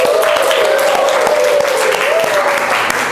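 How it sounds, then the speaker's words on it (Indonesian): Students in a vocational high school computer networking class clap together for a classmate, a loud, sustained patter of applause with a steady tone and a voice running underneath. "tepuk tangan semuanya untuk Akbar."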